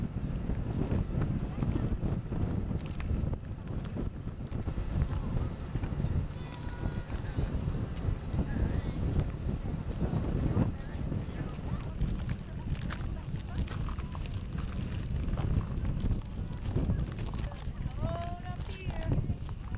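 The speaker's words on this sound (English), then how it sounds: "Windy, Windy." Strong wind buffeting over a glacier in the Canadian Rockies near Jasper, a continuous loud rumbling roar with gusty microphone buffeting, under scattered talk.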